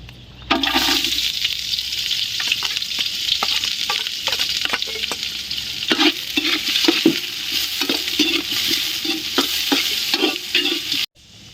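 Steady frying sizzle from a pan, with repeated scraping and stirring knocks as onions are sautéed until golden brown for chicken biryani; continuous and fairly loud, no talking.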